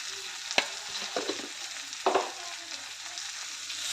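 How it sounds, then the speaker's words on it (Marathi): Okra curry with spices sizzling softly in a frying pan while a spoon stirs it, giving a few distinct scraping clatters over a quiet, continuous fry; no talking. "मिक्स करून घेते सर्व."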